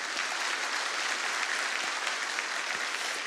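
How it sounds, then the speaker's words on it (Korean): A church congregation at a Sunday worship service applauds, producing a steady, even wash of clapping from many hands that carries on unbroken for the whole stretch. "한번 뜨거운 박수로 격려."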